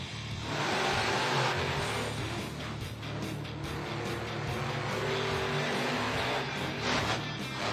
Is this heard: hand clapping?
no